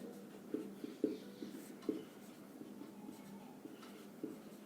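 Pen strokes of someone hand-writing a Class 10 math solution, the distance formula between two points: faint scratchy taps and short scribbles in irregular bursts, close by and quiet, with no voice.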